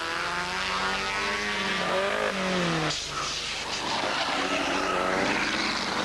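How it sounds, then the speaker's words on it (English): Big TVR Tuscan race car passing on a circuit, its loud engine note rising then dropping in pitch as it goes by, with a second car's roar following close behind. "followed through by number 7. That's the big TVR Tuscan of Nigel Roburn."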